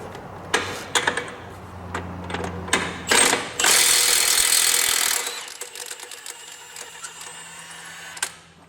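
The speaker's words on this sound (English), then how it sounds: "let me grab an impact and we will go ahead and snatch this tire off here" A Milwaukee 3/4 inch cordless impact wrench works a semi truck wheel, hammering in short bursts before one long loud rattling run, followed by clanking of lug nuts and metal handling nearby.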